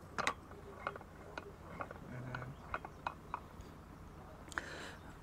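A cardan shaft cross joint turns on the transfer case of a Mercedes G-Class 6x6 conversion kit, giving faint, irregular metallic ticks and clicks over a quiet background hum.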